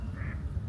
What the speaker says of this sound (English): It's a mallard.